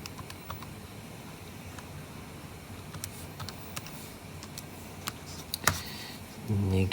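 Faint, sparse button presses on a calculator as an expression is typed in, a quiet irregular clicking in a hushed room, ending with a brief rustle.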